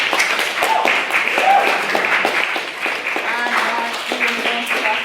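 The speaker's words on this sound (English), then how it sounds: "can we have a second round of applause for a maiden speaker as well" Applause and clapping fill a debate hall for a maiden speaker, a steady crowd roar of hands lasting throughout, with voices mixed in underneath.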